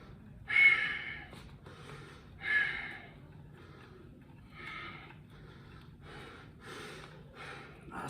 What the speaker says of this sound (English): Nasal breathing.